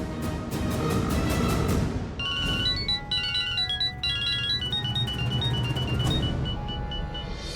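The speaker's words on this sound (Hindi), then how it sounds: "शिव को फोन मिलाते हैं।" A tonal electronic ringtone repeats its pattern of beeps over steady low background rumble, with the ringing starting after a couple of seconds.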